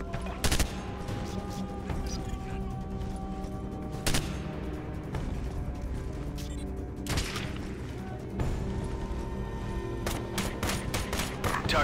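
Bursts of gunfire sound through the Ghost Recon Advanced Warfighter 2 game, with sharp shots and rapid volleys breaking through a dense, continuous background of combat noise across the whole stretch.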